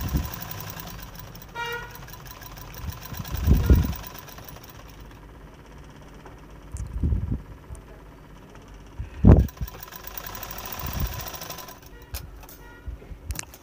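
Sewing machine stitching a prince-cut blouse, a few short bursts of needle running with quiet pauses between them, close and fairly loud, no talk.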